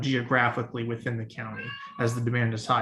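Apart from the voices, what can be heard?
cat meowing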